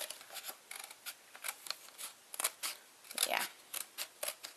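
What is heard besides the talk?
scissors cutting a paper plate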